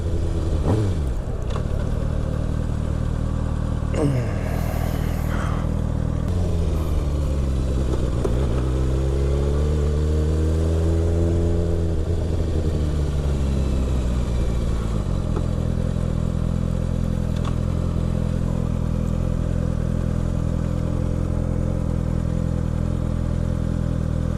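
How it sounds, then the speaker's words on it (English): A 2013 Kawasaki Ninja ZX6R 636 motorcycle engine runs close and loud, idling steadily, then rising and falling through several throttle revs before settling back into a constant idle. "That's my bike. Well, here it is. A 2013 Kawasaki Ninja ZX6R 636."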